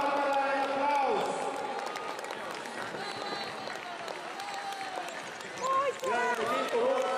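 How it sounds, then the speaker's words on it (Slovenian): A crowd at the finish of the 21 km half marathon in Ljubljana claps and cheers for an arriving runner, a soft continuous wash of applause beneath an announcer talking over the loudspeakers. "Barbara Gradina, Barbara en aplavz."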